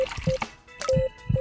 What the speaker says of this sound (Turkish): İyi, her yere de damladı.